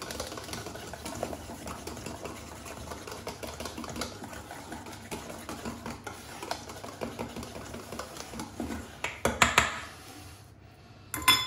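Galette des rois batter with vanilla extract is mixed briskly in a bowl, a continuous rapid rattling and scraping with clicks against the bowl, louder bursts near the end before a short pause.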